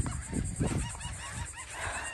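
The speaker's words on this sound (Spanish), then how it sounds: "El cuate les anda aventando pan a las gaviotas." Seagulls call and honk by the sea while being tossed bread from a fishing outing, several loud, close squawks in irregular bursts against a steady background.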